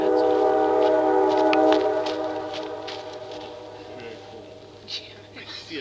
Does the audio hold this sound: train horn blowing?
yes